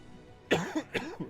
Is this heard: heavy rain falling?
no